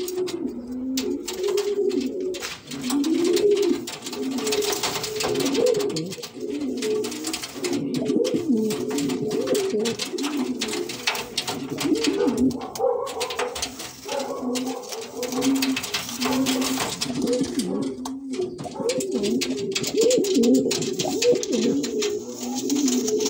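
A Spanish pouter pigeon near its nest coos in repeated deep, rolling phrases, close and steady throughout, with no voices over it.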